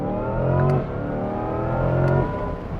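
A Corvette V8 rumbles steadily with the windows down, a deep, loud drone that swells slightly twice as the revs rise and fall.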